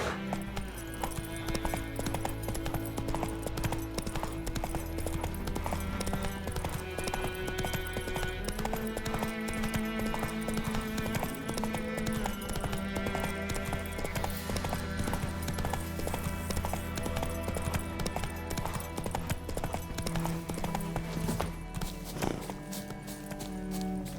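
A horse gallops in The Witcher 3 with a fast, steady clip-clop of hooves that runs the whole time under a loud, continuous layer of game music.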